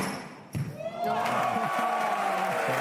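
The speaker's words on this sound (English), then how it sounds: "That's the loudest cheer we've heard all tournament" A crowd at a squash quarter-final match between Paul Coll and Mohamed ElShorbagy erupts into loud, sustained cheering and shouting after a rally, starting with a sharp ball-strike sound and swelling to a steady roar.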